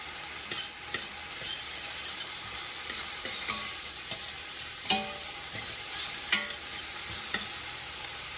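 Onions fry in a pan with a soft, steady sizzle while a utensil stirs and scrapes, making scattered clinks and taps close by.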